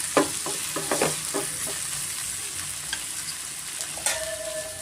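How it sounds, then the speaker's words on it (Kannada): Tomato and brinjal frying in a pan for chutney, a steady sizzle with a quick run of spatula taps and scrapes early on and a few more clinks later, no voices. "ಟೊಮೆಟೊನ ಸಾಫ್ಟ್ ಆಗಬೇಕು, ಅಲ್ಲಿವರೆಗೂ ಸ್ವಲ್ಪ ನಾವು ಫ್ರೈ ಮಾಡ್ಕೊಬೇಕಾಗುತ್ತೆ."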